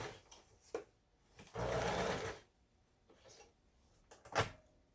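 A Lion Fairy 15 household sewing machine runs after repair, a short steady whir of about a second that starts and stops abruptly, set between quiet knocks and clicks.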